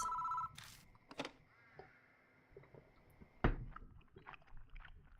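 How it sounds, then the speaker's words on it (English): A telephone rings in the horror video game Spirit Hunter: Death Mark, giving a short, shrill burst of bell ringing at the start, followed by faint clicks and thuds. "The phone rings."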